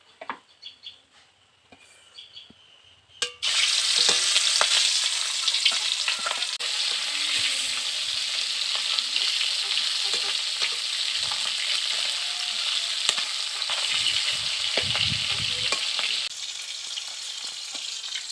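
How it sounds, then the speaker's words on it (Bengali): Loud, steady sizzle of stinging catfish frying in hot oil, starting after a few quiet seconds of light clatter and continuing with a dense crackling hiss. "এবার আমি এর মধ্যে মাছগুলোকে দিয়ে আস্তে আস্তে করে ভেজে নেব"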